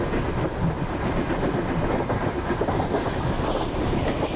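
A Tejas Express train from Mumbai to Ahmedabad runs in the MSTS Indian Train Simulator game, with a steady, loud rumble and clickety-clack of wheels over rails throughout.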